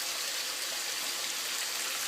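Water from a cichlid aquarium drains through a pump during a water change, a soft, steady hiss of flowing water that stays even and fairly quiet throughout, with no talking.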